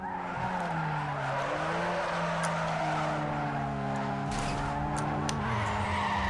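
A car in the racing game Need for Speed Underground 2 drifts with continuous tire squeal and skidding over a droning, shifting engine note, loud and unbroken throughout.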